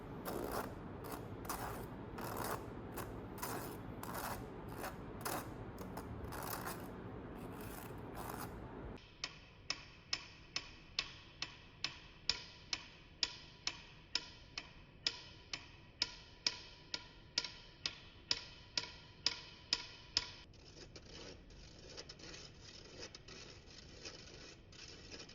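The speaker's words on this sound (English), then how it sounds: "Sift it together." A hand-cranked sifter works flour, baking powder and baking soda through its mesh with a rapid ratcheting clatter, then settles into an even, regular ticking rhythm, close up and without voices.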